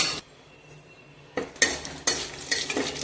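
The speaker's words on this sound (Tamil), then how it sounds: "எண்ணெய் நல்லா சூடானதும் அதுல சோம்பு சேர்த்துக்கோங்க." Whole spices (fennel seeds, cinnamon, cloves, cardamom and bay leaf) hit hot oil for a goat intestine gravy. A quiet kitchen hum gives way to a sudden soft sizzle and some light stirring scrapes.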